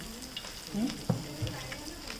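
Semolina-coated fish frying in a pan gives a soft, steady sizzle with a few clicks and small pops, under low background noise.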